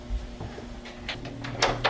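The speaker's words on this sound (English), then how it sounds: "Go shut the door." An indoor door swings shut in an apartment, a few soft knocks and a firmer latching thud over a steady low room hum, fairly close and fairly quiet.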